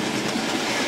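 A Hornby Dublo 3-rail model train runs through a balky point on a layout: a dense, continuous rattling rumble of small wheels on track, steady and close, with no voices.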